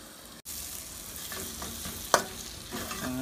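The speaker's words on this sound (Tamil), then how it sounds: "நல்லா வதங்கிடலாம்." Spiced onions for a Maldivian dry-fish sambol sizzle in a pan as a spoon stirs and scrapes through them. There are a few sharp clinks and the frying hiss is steady and close, with no voices.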